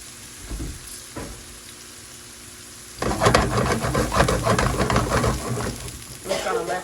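Garlic sizzles in a pan for salmon croquettes, a quiet crackle at first with a couple of stir scrapes, then a louder, busy frying hiss after a few seconds, close by.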